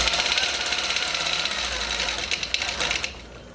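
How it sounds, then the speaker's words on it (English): A longarm quilting machine stitches along a quilt's binding, a loud, steady rapid mechanical whir and needle chatter that runs continuously before easing off near the end. "And then I'm going to sew off the quilt."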